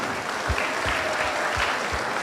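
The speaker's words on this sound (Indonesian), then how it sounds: "Tepuk tangan." Audience applause at a Catholic talk show, a steady wash of clapping filling the whole stretch, mid-level and even, with no talk over it.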